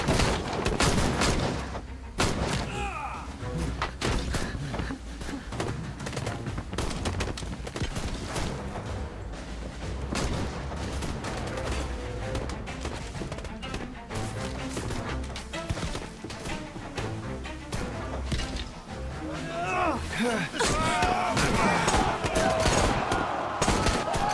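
Enemies in Syberia: The World Before keep up sustained gunfire, a dense, continuous rattle of rapid shots and cracks lasting over twenty seconds, loud and close throughout.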